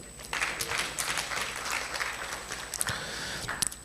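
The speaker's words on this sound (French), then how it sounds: "Merci de l'applaudir, s'il vous plaît." An audience at a conference session applauds a speaker, a full, even patter of many hands with a few louder close claps near the end.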